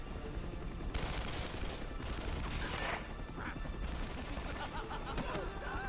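Video game gunfire in Uncharted: Drake's Fortune, with rapid bursts of shots and crashing impacts packed densely together throughout, fairly quiet in the mix.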